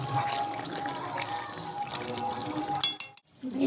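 Potatoes are tipped into a pot of mutton that has been braising for about forty minutes. A steady close sizzle runs throughout, broken by a quick clatter and a brief hush as they land, before the sizzling resumes.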